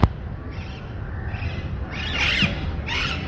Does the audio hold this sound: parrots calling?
yes